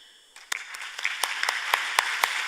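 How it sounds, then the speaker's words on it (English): After a moment of quiet, applause begins at a forum plenary welcoming speakers: a few sharp, distinct claps first, then more hands join and the clapping swells to a fuller, steady round. "Please make them feel welcome with a round of applause."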